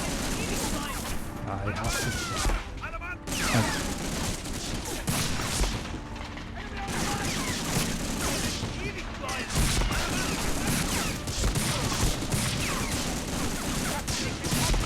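Rapid bursts of gunfire from the PlayStation 2 war shooter Medal of Honor: Frontline, repeated volleys and booms through most of the stretch with brief gaps, while a player talks over the action.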